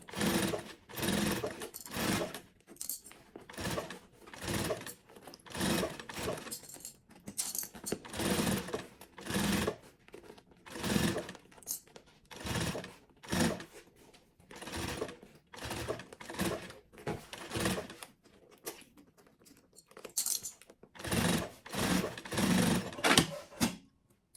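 Sewing machine stitching a seam on sublimated fabric for a maternity kit, running in repeated close bursts of fast mechanical chatter separated by brief pauses, with no speech.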